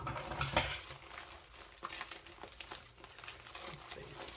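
Crinkling plastic and tearing tape as a heavily taped package of Beebeecraft crafting supplies is pulled open, close-up, with continuous rustles and a few sharper rips.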